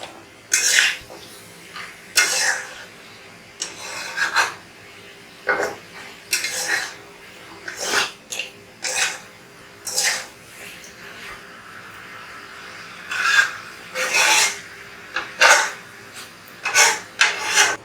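Beef kala vuna is stirred and fried in a pan, a spatula scraping in repeated short rasping strokes with sizzling in between, close and clear with no talking.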